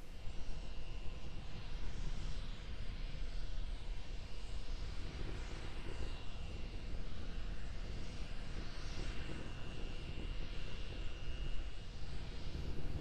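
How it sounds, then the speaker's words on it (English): A SpaceX Starship prototype's single Raptor rocket engine roars steadily during a hover at altitude, a continuous broadband rumble heard from a distance, even in loudness throughout with no talk. "We're still being powered by the single Raptor engine."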